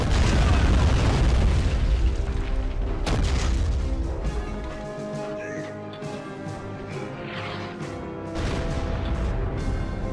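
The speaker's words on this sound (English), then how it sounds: "now the Reds are getting hit with some blue artillery, tan artillery." Artillery shells pound units during a battle in the strategy game Army Men of War: heavy booming blasts open the passage, another strikes around three seconds, and a third lands near the end, over a dense, rumbling battle din.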